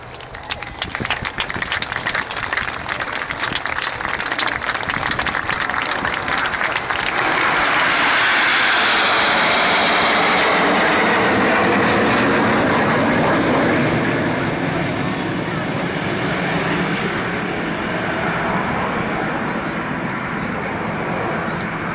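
Red Arrows Hawk jets at the Farnborough air show roar past in a loud, sweeping pass that swells to a peak and fades away, while an announcer talks over the crowd.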